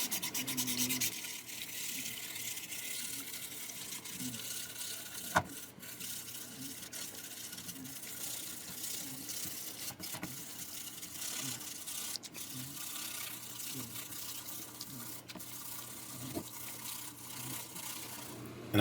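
Conditioner is worked into the rosewood fretboard of a Monoprice Indio Telecaster-style guitar, giving a steady soft rubbing and scrubbing texture that runs the whole time, with a few small knocks and no talking.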